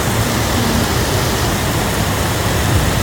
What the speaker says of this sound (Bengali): খুব সুন্দর বৃষ্টি